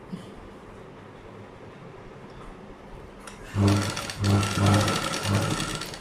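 A sewing machine stitches a blouse in short runs after about three seconds of quiet, its motor whirring loudly in several bursts separated by brief pauses, close by.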